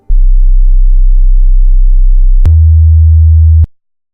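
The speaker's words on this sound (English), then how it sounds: "This is what the hum sounds like." A loud, steady low hum drones continuously, then shifts abruptly to a slightly higher pitch before cutting off.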